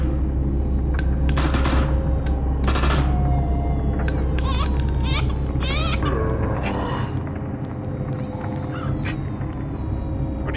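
Gunfire from a zombie-shooting Resident Evil remake built in Dreams, several sharp shots and bursts spread across the clip over a steady loud droning game background, with faint voices briefly mixed in.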